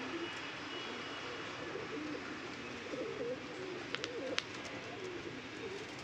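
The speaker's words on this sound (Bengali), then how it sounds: "পায়রা মস্তি করাও শুরু করে দিয়েছে।" Pigeons coo softly in a low, rolling murmur that runs steadily throughout, with a few sharp faint clicks near the middle over a constant background hiss.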